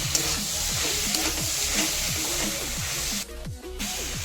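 Peas and onions sizzle steadily in a hot pan for restaurant-style chow mein, with repeated scraping strokes of a spatula as they are stirred; close and continuous, with no talking.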